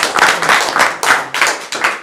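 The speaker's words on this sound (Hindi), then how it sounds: "तो एक बार और ताली बजाइए सभी लोग" Villagers at an outdoor panchayat gathering in Sitamarhi clap together at close range, loud bursts of hand claps arriving in a loose rhythm, roughly eight in two seconds, with no talk over them.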